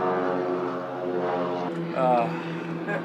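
An airplane passing low overhead near an airport, heard from a sailing boat as a steady, droning propeller-engine rumble that holds throughout and swells slightly toward the end, with a voice talking over it.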